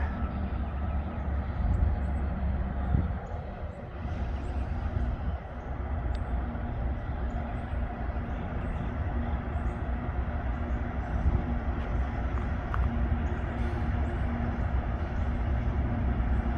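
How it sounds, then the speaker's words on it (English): A CSX freight train emerges from a tunnel with a continuous low rumble and rolling wheel noise, steady and moderately distant, with no clear horn and only slight swells throughout. "we got a CSX freight coming out of the tunnel"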